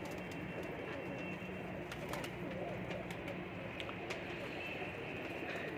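Indian Teddy pigeons coo in a loft, soft low rolling calls repeating under a constant hum of background noise, with someone speaking faintly at times.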